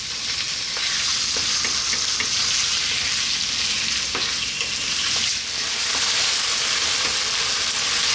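Chicken fries over lively, above-medium heat for a chicken curry, giving a loud, constant hiss of sizzling oil with occasional stirring scrapes and clicks.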